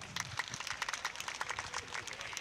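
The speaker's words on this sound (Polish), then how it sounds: "Dzięki no wielkie za ciepłe brawa" Warm audience applause at a Polish talk on personal image, dense steady clapping from a crowd filling the room, with a faint voice underneath.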